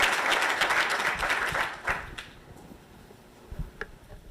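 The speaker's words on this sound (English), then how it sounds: "let's give her a round of applause" A conference audience applauds a panel organizer, with dense clapping at first that thins into scattered claps and fades out after about two seconds, leaving a few last isolated claps.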